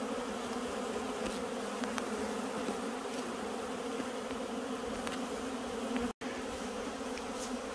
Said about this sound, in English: Bees. You see that?